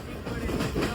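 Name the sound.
inside Tutari Express train at night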